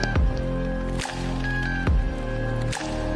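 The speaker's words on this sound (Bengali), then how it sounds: "অ্যাড করে নিচ্ছি 2 টেবিল স্পুন কর্নস্টার্চ" A slurry of cornflour and water goes into a thickening chilli chicken gravy, which answers with heavy, wet squelches and plops recurring roughly once a second over a low, bubbling simmer.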